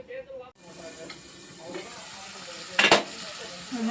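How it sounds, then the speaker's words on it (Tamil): Prawn thokku bubbles and sizzles in a pan as it simmers down, a soft hissing bed with a louder burst of spitting partway through and a voice talking over it. "நல்லா கொதிச்சு இந்த அளவுக்கு பாருங்க, எறா தொக்கு ரெடி ஆயிடுச்சு"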